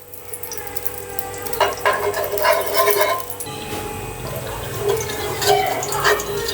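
About four tablespoons of oil and a tablespoon of ghee heat in a pan for cauliflower korma, giving a soft, steady sizzle with small crackling spurts, while a voice speaks at intervals over it.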